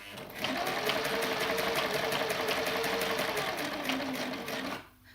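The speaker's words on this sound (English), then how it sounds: "So I'm just sewing around 3 edges." A home sewing machine runs a straight stitch around the edges of a lavender cushion made from home-printed fabric, giving a steady, close, rapid mechanical whirring and clatter for several seconds before stopping abruptly.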